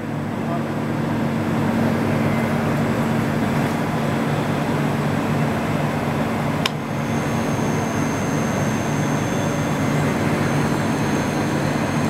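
WMW Zerbst DP 4000 face lathe running at raised speed, a steady continuous machine drone with a low hum, one brief sharp click midway, close and constant throughout.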